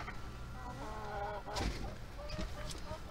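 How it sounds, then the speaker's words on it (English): Chickens inside a chicken house give soft clucks and squawks at low level, with handling and scraping noises of someone working nearby during cleaning. "we have a little chicken here"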